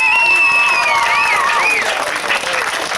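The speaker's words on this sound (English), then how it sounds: "These have got to get a cheer, and they are local heroes." A crowd at a 1991 Weald of Kent grasstrack meeting applauds and cheers local heroes Malcolm and Lester Goodwin, the clapping running steadily under a loud announcer's voice over the public address.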